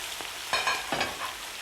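Woodcocks brown in a pan while onion, leek, carrot and garlic are added. A steady close sizzle of frying with a few louder hisses and stirring bursts as food hits the hot fat.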